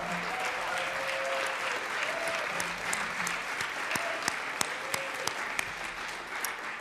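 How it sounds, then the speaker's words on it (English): Sustained applause in a state legislative chamber honoring a high school girls' basketball team, dense steady clapping filling the room with a few sharper individual claps standing out, no talking. "If we could give them a round of applause."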